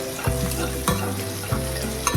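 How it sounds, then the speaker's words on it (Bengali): Chopped garlic sizzles in hot oil in a wok, with a steady frying hiss broken by several scraping stirs of a spatula, close and moderately loud, no voices. "তো কড়াইতে দিয়ে দিয়েছি আমি এখন রসুন কুচি।"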